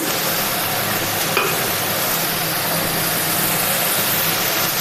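Radish greens frying with garlic in a pan, a steady close sizzle and crackle that holds evenly throughout with a faint low hum underneath and no talking.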